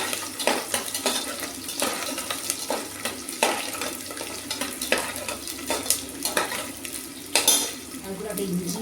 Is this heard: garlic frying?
yes